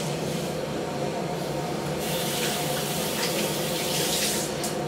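A tap runs steadily into a sink during beard washing, a constant rushing splash with brighter spraying bursts in the second half.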